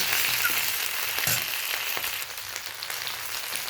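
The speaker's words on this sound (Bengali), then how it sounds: "এই পর্যায়ে আমি ঝিঙেগুলো তুলে দিলাম। ভালো করে ঝিঙেটা নেড়ে নিচ্ছি।" Ridge gourd pieces frying in a pan, with a soft, steady sizzle and a few light stirring scrapes and knocks, fairly quiet and close, with no talking.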